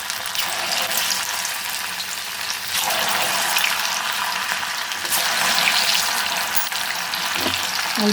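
Thin salted taro (kochu) chips deep-frying in hot oil, added in small batches, giving a loud, steady, close-up bubbling hiss with only slight swells and no voices.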